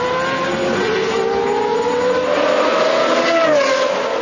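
An A1GP open-wheel race car's engine screams above 9,000 rpm at the Malaysia round, a loud sustained high-pitched wail with pitch climbing steadily as the revs build.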